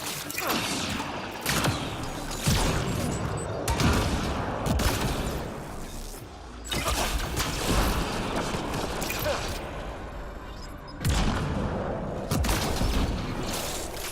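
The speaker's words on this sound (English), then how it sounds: "Grenades are actually kind of fun now that I upgraded them to sticky." Gunfire from the video game Mass Effect: Andromeda with sticky grenades going off, a dense loud stream of rapid shots and bursting blasts with whooshing impacts, briefly broken by lulls.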